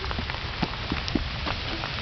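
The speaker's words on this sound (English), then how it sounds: "Are you playing in the rain?" Steady rain falls and patters on surfaces, a continuous close hiss with a few sharper drop taps.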